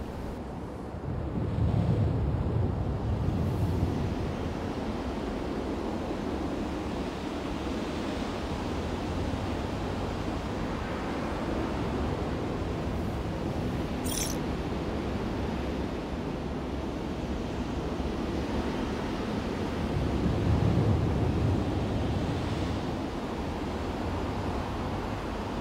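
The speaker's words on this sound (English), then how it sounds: "You can hear sound of the wind at the top of towers." Steady wind rushing and buffeting at the top of a tall tower in the video game Spider-Man: Miles Morales, a continuous broadband roar that swells in places, with no voices.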